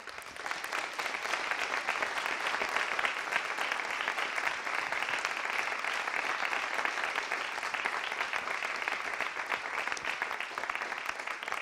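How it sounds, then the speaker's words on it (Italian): Sustained applause from a crowd at a philharmonic society event in Fénis, dense steady clapping at an even level for several seconds without letting up. "penso che sia intanto doveroso un applauso a Luca."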